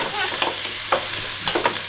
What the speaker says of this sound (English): There, we're starting to saute the potato and pumpkin in the oil.